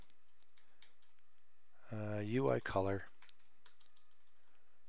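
Typing on a computer keyboard at a desk, a steady scatter of quiet key clicks with a short stretch of someone speaking in the middle, the clicks resuming after.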